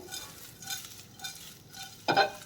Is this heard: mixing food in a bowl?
yes